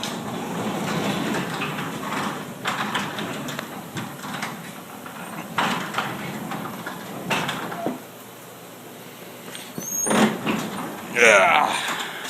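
A Clopay garage door rolls by hand along modified tracks, rumbling and rattling in uneven surges with clanks and a sharp squeak near the end, while a person talks over it.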